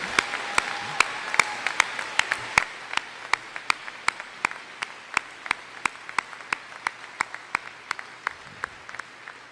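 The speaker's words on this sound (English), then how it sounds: "Let's give one more round of applause to our exemplary teacher of the year" Applause at a school commencement ceremony honoring the teacher of the year. Sharp, separate claps ring out in a steady rhythm, fairly faint and in a large space, with a low murmur of voices underneath.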